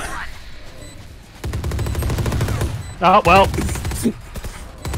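Enemy gunfire in a shooter video game, a dense burst of blind-fire shots hammering on for several seconds, with a player's voice talking over and between the shots.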